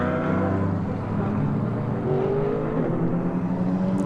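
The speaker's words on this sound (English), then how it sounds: "as they accelerate up the hill, you can start to hear the different engine notes" GT3 race cars accelerate up the hill out of the hairpin at Suzuka during a GT World Challenge Asia race, a loud, continuous blend of engine notes that swells steadily without a break.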